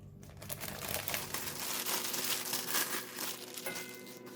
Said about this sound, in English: we're going to put the pork belly in the plastic bag